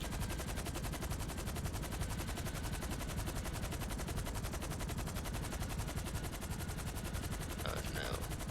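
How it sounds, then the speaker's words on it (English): Rapid, dense automatic gunfire from a FiveM GTA roleplay video game fills the whole stretch as a loud, continuous barrage with no breaks. "Oh, I'm getting shot at. I'm getting shot at, dude."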